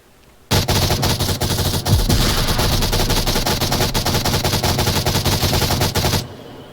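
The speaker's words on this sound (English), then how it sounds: "Salty Fu gets over aggressive on the pre-fire" Rapid automatic gunfire from the virtual reality shooter Onward during a competitive scrim, a loud continuous burst lasting about six seconds, close and alone without talk.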